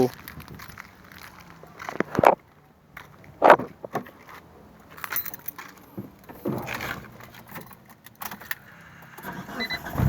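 A Mitsubishi E Car with a 4G63 engine converted to injected LPG starts and idles roughly, a low uneven running note broken by sharp clicks and clatters, heard close with voices talking over it.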